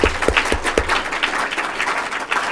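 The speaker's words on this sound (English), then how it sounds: "Please join me in thanking them with a round of applause." Applause from an audience after a panel discussion, a short burst of clapping with a few sharp nearby claps at the start, then settling into a softer, even patter.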